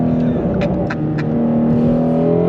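A 2020 Shelby GT350R Heritage Edition with a Tremec manual gearbox revs hard under throttle, a loud, close, sustained engine roar rising in pitch, with a few short sharp pops early on.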